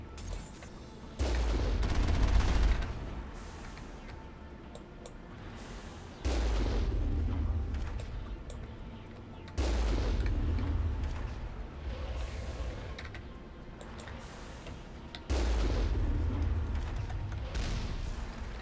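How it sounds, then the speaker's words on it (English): Turrets firing in the Mass Effect video game: bursts of rapid gunfire and booming blasts that come in several waves over a low rumbling bed, loud and close, each volley starting abruptly and trailing off before the next. "What have we here? Friendly turrets."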